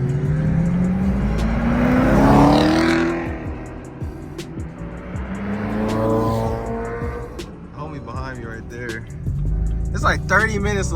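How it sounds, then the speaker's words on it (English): Cars leaving a car meet, engines revving and accelerating past one after another with rising and falling pitch, fairly near and loud, while people talk over them. "Dang, there got some cars leaving."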